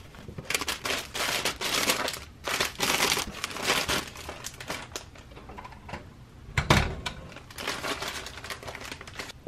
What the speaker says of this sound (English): then we're gonna put it into the other gray poly bag